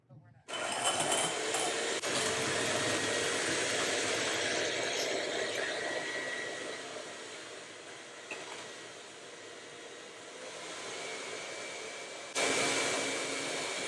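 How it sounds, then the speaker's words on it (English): An electric handheld mixer whips aquafaba for a vegan tres leches cake, a steady loud motor whir running almost fourteen seconds, dipping slightly midway and surging again near the end. "I'm going to use an electric handheld mixer today instead of manually doing this"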